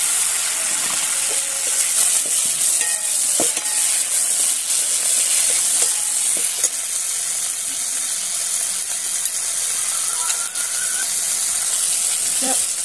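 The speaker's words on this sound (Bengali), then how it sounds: "আমার আদাটা ভাজা ভাজা হয়ে গেছে। এতে আমি টমেটো দিয়ে দেবো।" Ginger frying with tomatoes and green chillies as okra curry is cooked, a steady broadband sizzle running throughout with scattered clicks and scrapes of stirring; a voice speaks faintly in places.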